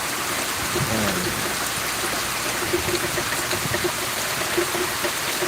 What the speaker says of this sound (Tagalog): Bugso ng ulan.